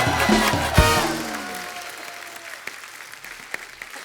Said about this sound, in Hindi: माधुरी दीक्षित जी के लिए एक बार जोरदार तालियां हो जाए